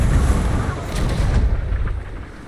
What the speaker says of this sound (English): Oh, almost hit the back mast again with a cannon.